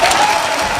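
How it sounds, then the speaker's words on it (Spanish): Crowd applause for a candidate at a live political rally in a theatre, a loud dense burst of clapping filling the brief moment without any talking. "está recibiendo el aplauso ahora"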